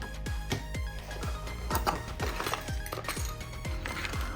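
A small bag of mounting hardware for an ID-Cooling IS-40X V3 low-profile CPU cooler is shaken, making a rapid series of close metallic clicks and rattles in an uneven rhythm.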